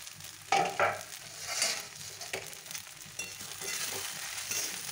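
Beans are stirred with soy sauce and fried peanuts in a pan, with soft scraping strokes over a gentle sizzle, close and moderately quiet.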